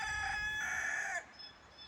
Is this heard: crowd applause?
no